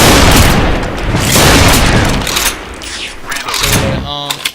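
Sniper rifle fire in the online shooter Special Force 2: loud, close, booming blasts with a ringing tail, followed by mechanical clicks and a metallic bolt or reload rattle near the end.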